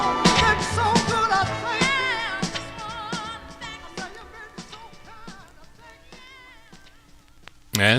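A vinyl record of a 1964 soul song plays, with a singing voice over steady rhythmic backing that fades toward the end before a sudden loud burst at the close.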